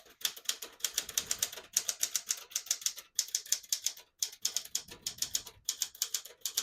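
Typing on a 1976 Smith-Corona Galaxie 12 portable typewriter: rapid bursts of crisp, close key strikes in an uneven rhythm, broken by short pauses, with no talk.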